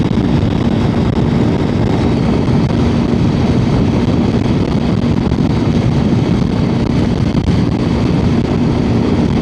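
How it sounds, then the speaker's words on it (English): Strong wind buffets a microphone in a loud, unbroken roar during a cross-country ride, with a faint engine hum mixed underneath and no speech. "It's extra windy today."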